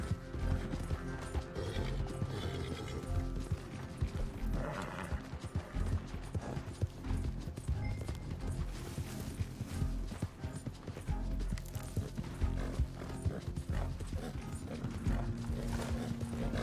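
Horse galloping in the video game Red Dead Redemption 2: continuous rhythmic hoofbeats with tack and gear rattling over about seventeen seconds, with a brief whinny partway through and a layered game soundtrack beneath.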